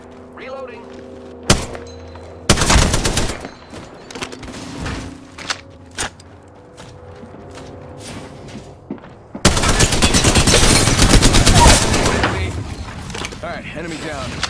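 Gunfire in the shooter game Apex Legends: a couple of single close shots, then loud sustained automatic bursts, with game voice lines and other sounds between.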